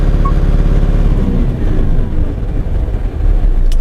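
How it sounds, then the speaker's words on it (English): A Hino diesel commercial truck engine settles back to idle, a loud, steady low drone with a rhythmic, even knock that continues close by throughout. "If you press stop button, the value is hold and the engine revolution return to idle"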